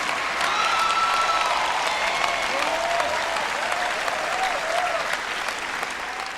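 Applause from a church congregation at a Joyce Meyer sermon, a dense steady wash of many hands clapping continuously and loudly throughout, with a few faint cheers but no speech.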